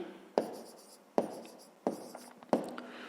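Handwriting on paper while working a fifth-grade maths exercise, four separate pen strokes each starting with a sharp scratch and fading, evenly spaced, close and quiet.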